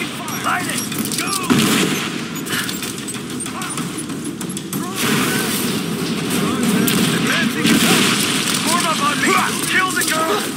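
Gunfire and explosions during a firefight in Rise of the Tomb Raider, a dense continuous barrage of shots and booms with shouted voices mixed in throughout.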